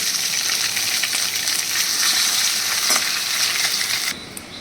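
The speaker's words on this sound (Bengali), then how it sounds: "এবারে মাছগুলো তেলটার মধ্যে বড়াগুলোকে ভেজে নেবো" Fish egg fritters bound with gram flour sizzle in hot oil in a pan, a steady bright crackling hiss that drops away abruptly near the end.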